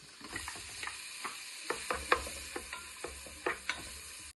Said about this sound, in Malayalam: നമ്മൾ ഫൈനായിട്ട് ചോപ്പ് ചെയ്ത് വെച്ചാണ് ഓണിയൻസ് ഇട്ട് കൊടുക്കാം.